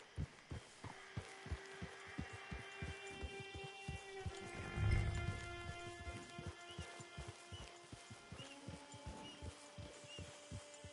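Steady clip-clop of a horse's hooves in Red Dead Redemption 2 Online, a regular muffled thudding rhythm under a faint musical hum, swelling briefly midway.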